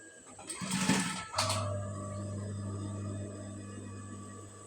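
A sewing machine stitches along the folded edge of a blouse, starting with a short loud burst of stitching and then settling into a steady, close motor hum.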